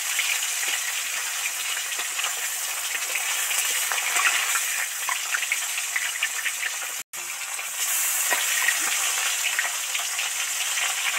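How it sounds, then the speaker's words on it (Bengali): Whole koi fish frying in hot oil, a dense, loud and continuous hissing sizzle that runs steadily without talk, broken only by one brief cut near the end. "এবার একটা একটা কই মাছ তেলের মধ্যে দিয়ে দেব।"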